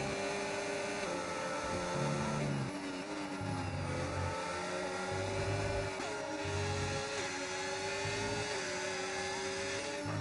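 A McLaren Formula 1 car's engine wails as it accelerates hard around Qatar's circuit in a racing game, with a high, steady whine rising through gear shifts, loud and close throughout.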